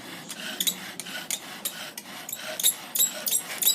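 Rapid back-and-forth scraping and rubbing of wood on wood as a bow drill spins on a fireboard, rhythmic strokes with brief pauses, dry and close.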